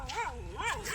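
A village dog at night near a well barks in two quick, close yelping barks with rising and falling pitch, over a low rumble.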